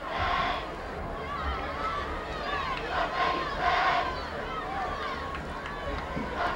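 A large crowd roars and cheers steadily at a 1999 high school football game between Bettendorf and Pleasant Valley in Iowa, with a dense wash of voices swelling in a few louder surges.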